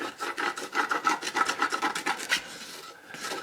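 Scraping the browned glaze off the bottom of a pan for crockpot oxtails, a rapid series of rough, rasping strokes, close and fairly loud, that slows and stops near the end.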